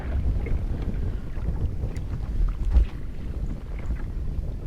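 Wind rushes steadily across open water around a kayak on a fishing trip at Ft. Drum Conservation Area, a continuous low rumble of gusts buffeting the microphone, swelling briefly near the end, with no talking.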